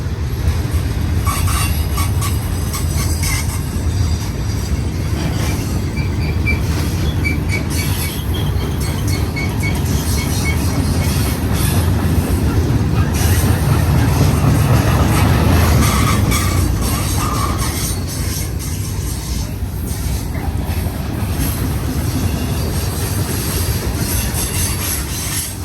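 A Union Pacific manifest freight train rolls past at Cajon Pass, its axles and wheels giving a loud, continuous rumble with rhythmic clacking and occasional metallic squeals close by.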